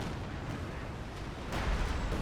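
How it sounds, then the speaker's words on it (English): Artillery shells land in Company of Heroes 2 as a dense, rumbling barrage of low booms, heavier blasts swelling toward the end of the short burst. "So we have artillery coming down this region."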